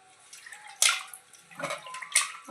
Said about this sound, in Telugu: దీంట్లో ఇప్పుడు చింతపండు మనం కొంచెం నీళ్ళైతే పోసుకొని